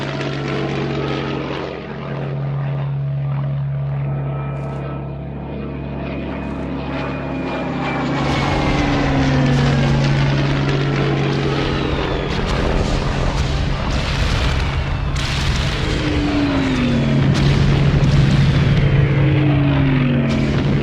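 Heinkel 111 bomber aircraft flying overhead in the 1937 bombing of Guernica, a loud droning propeller engine roar that swells and grows heavier as it passes, with shifting pitch and no speech.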